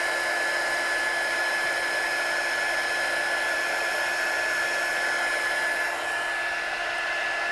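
A heat tool blows hot air over freshly stamped ink to set it, a steady close whirring drone of fan and rushing air that holds constant throughout with no talking.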